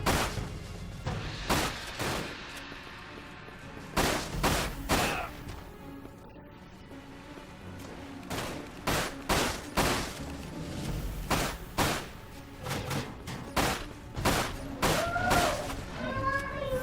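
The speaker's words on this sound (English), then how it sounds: "Who's shooting at me?" Gunfire aimed at the player in a video game: a string of sharp, loud impacts and shots arriving in irregular bursts and clusters, with game ambience between them and talk mixed in.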